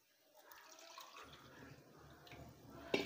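Water is poured out for drinking in a home kitchen, giving a faint, soft trickling that ends in a brief, sharper splash near the close.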